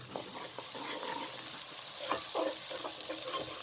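Onion, garlic, ginger and white cumin fry in a pan over a medium flame, giving a steady close sizzle with a few stirring scrapes and clinks throughout, and no talk.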